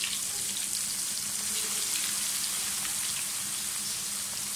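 Chicken pieces frying in hot oil, a dense continuous sizzle and crackle heard close and fairly loud with no talking.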